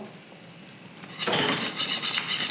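A whisk clatters briskly against a pan as milk is worked into a bechamel sauce, with rapid rhythmic metallic scraping starting after a quiet moment, close and fairly loud.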